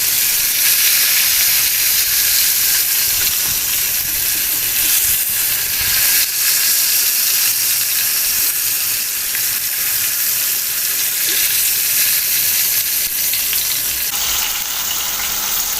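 Marinated chicken breasts sizzle steadily in a hot pan, a continuous close frying hiss with faint spatter that holds at an even level throughout with no voices.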